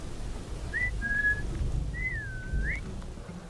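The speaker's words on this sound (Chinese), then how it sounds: "我在这里吹口哨吗？" Two clear human whistles in the video game Assassin's Creed Syndicate, a short steady tone then a longer rising-and-falling one, heard over a low background rumble at moderate volume.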